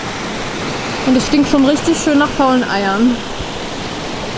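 A river flows right beside a parked van in Greece, a steady loud rushing wash that continues under a person speaking.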